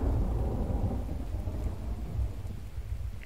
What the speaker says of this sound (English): Here comes the morning rain.